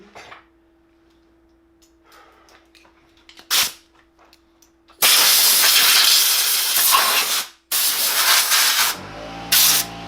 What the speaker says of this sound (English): I'm gonna go ahead and blow it all out before I take the valve cover off, just in case there's any dust in there